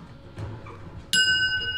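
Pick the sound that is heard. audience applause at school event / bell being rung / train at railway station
bell being rung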